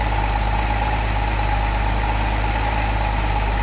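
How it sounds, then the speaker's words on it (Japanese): Porsche 993 Targa engine running at a steady idle through its twin exhaust, a smooth low-pitched drone with constant level and a faint mechanical whine above, close by with no voices. "エンジンもかなりスムーズに回っていると思います。 排気音も低く、993のツインエクゾースの音もしてますね。"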